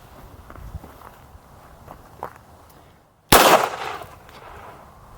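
A revolver fired from inside a pocket at an outdoor range: a single loud, sharp report with a brief muffled tail, preceded by faint rustling and shuffling.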